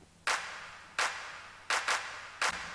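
A crisp, dry clap sample layered into an indie pop drum loop, sounding as five sharp hits in a syncopated rhythm, close and clean against a quiet background.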